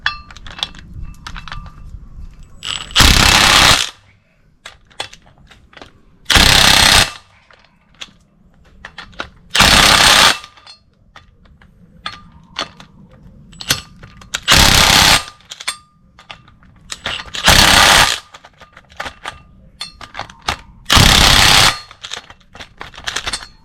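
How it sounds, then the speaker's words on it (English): Impact wrench bolting a front brake rotor to the hub of a 2004 Chevy Colorado: seven loud, close bursts of rattling hammering, each about a second long, spaced a few seconds apart with quiet clinks of tools between. "Bolting up my rotor to the hub."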